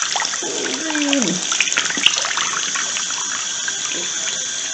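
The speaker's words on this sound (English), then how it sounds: "So I run it under actual cold water." Cold water from a tap runs steadily over a fingernail painted with thermal polish, a continuous close splashing flow with a brief vocal sound near the start.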